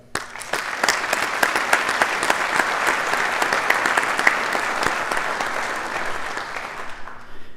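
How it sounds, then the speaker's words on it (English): Audience at a university ROTC commissioning ceremony applauds steadily, a full, even burst of many hands clapping for about seven seconds before tapering off at the end. "So I would just like to give all of you a round of applause"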